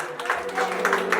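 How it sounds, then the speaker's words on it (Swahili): Church congregation applauding for Jesus, a scattered, moderately loud round of clapping from a crowd, steady over the whole moment with a faint humming tone underneath. "Sikia makofi moja"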